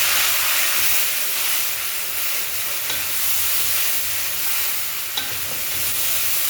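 Tomatoes tipped onto fried onions in a pan for Alexandrian sayadeya fish rice, giving a steady, loud, broadband sizzle with stirring and faint clicks throughout, no voices.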